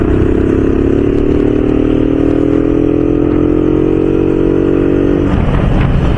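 A motorbike ridden along a road near Yellampalli project, Mancherial, with a steady loud engine drone and wind rumble throughout, the engine note sliding slowly downward before breaking into rough clatter near the end.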